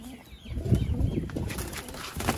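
Pigeons in a loft, flapping wings and soft cooing and shuffling at close range, with faint voices in the background.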